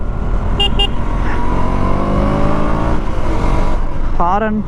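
A KTM Duke 200 motorcycle engine runs steadily and loudly while a short double horn toot sounds near the start, followed later by a rising engine note.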